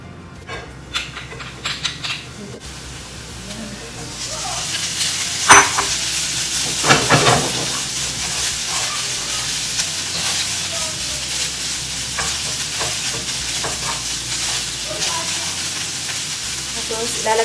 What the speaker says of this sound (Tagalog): Igigisa lang natin yung sibuyas.